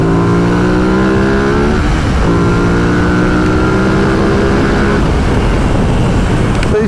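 A Ducati XDiavel cruiser motorcycle accelerates hard nearby, its engine note climbing through rising gear pulls with brief dips at each shift, loud and raw with wind rush.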